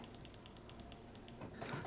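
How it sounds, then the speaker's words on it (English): A home printer runs quietly nearby, giving off a fast, regular ratcheting tick of gears and mechanisms that turns into a brief whirring feed toward the end, with no one speaking. "Sorry, my printer's running."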